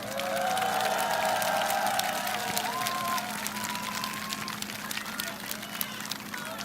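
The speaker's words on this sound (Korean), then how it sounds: "우리 두 분도 한번 박수 한번." A crowd at a political rally in Gangwon-do claps and cheers, a busy spread of handclaps and crowd noise with voices, including a speaker, sounding over it throughout.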